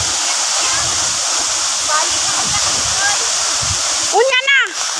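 A waterfall at Lapuyan pours in a steady, loud roar of rushing water and spray close by, with a voice briefly calling out over the noise near the end.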